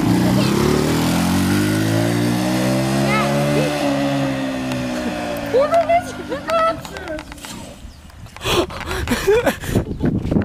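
A go-kart engine drones loud and close, its pitch sliding upward as it accelerates and then falling away, before clattering and knocking noises take over near the end.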